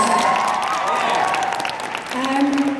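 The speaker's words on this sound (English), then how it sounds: "Give yourselves a round of applause" Fans in a convention panel audience applaud, a steady wash of clapping with faint cheering, while voices talk over it near the end.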